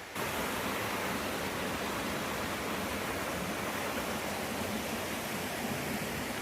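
A mountain river rushes steadily over moss-covered rocks on the Little River in Elkmont, a loud, constant broadband wash of flowing water with no voices.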